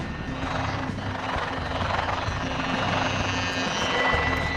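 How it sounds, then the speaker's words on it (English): Steady hovering rotor drone of a police drone in the VR game The Secret of Retropolis, a continuous whirring buzz with a low thrum, close and even throughout, no speech. "It's a police drone."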